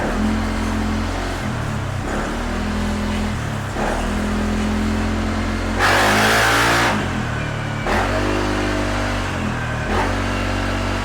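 Car engine fitted with an APR pipe after an ECU remap revs repeatedly in short blips, each rising and falling back to a steady idle, with one longer, louder rev midway.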